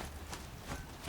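Horse hooves galloping in Horizon Zero Dawn, a quick steady clip-clop beat pounding over a dense, noisy game soundscape for about a second.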